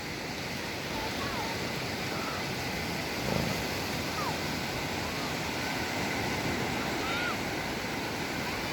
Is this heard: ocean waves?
yes